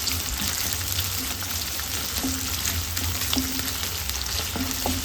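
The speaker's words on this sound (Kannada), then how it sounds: "ಈರುಳ್ಳಿ ಚೆನ್ನಾಗಿ ಫ್ರೈ ಮಾಡ್ಕೊಳ್ಬೇಕು." Chopped onion fries in hot oil for a long-beans gravy, giving a dense, continuous sizzle with occasional stirring clicks over a faint low hum, close up and without speech.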